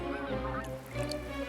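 Canada geese, a migrating flock, give nasal honks that repeat and overlap, fairly close and clear over a faint background.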